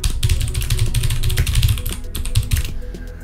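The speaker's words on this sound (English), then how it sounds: "Let's give this a bit of a typing test, shall we?" Fast typing on a Das Keyboard 4 mechanical keyboard, a close, loud run of sharp key clacks and thocks in uneven bursts, briefly pausing before a few final strokes.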